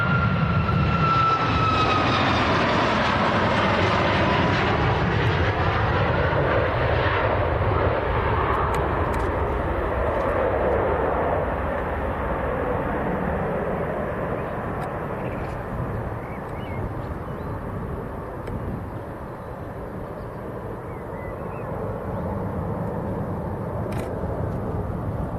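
A heavy airliner lands at Manchester Airport after a 4,600-kilometre flight, its loud jet roar starting with a falling whine, then settling into a broad rumble that slowly fades as it rolls long down the runway.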